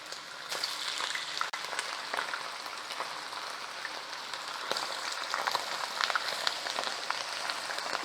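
Chicken dropped into hot oil in a large wok (bandi) for dhaba-style kadai chicken, giving a steady dense crackling sizzle with sharp pops, close and continuous with no talk.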